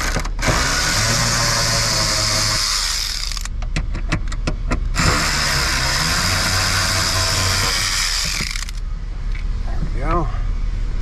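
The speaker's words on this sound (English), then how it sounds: "Coming in with the electron ratchet. Let's start pulling out these fasteners." An electric ratchet whirs loudly in two long runs while pulling fasteners from the dashboard of a 2007 GM Saturn with a Honda 3.5 L engine, with a few clicks and knocks between bursts.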